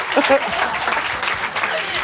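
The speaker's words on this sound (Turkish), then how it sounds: "Alkışlıyoruz size." Studio audience applause at a quiz night show, a steady burst of clapping lasting about two seconds with a brief voice poking through near the start.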